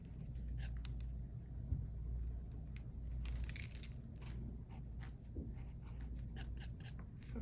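Marker or chalk strokes and erasing on a board during a math lesson, a string of short scratchy bursts over quiet room hum, with a few small knocks between.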